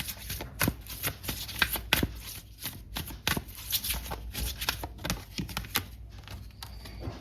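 Tarot cards being shuffled by hand up close, a quick irregular series of papery riffles and slaps with small pauses between bursts, moderately loud and alone without talk.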